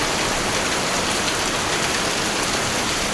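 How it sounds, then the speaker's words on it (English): Small pea-size hail falling on cars in a car lot, including a Ford Raptor and a Chevy Tahoe, a dense, steady hiss of pattering impacts throughout, close and continuous with no voices. "That little bitty, like pea-size hail."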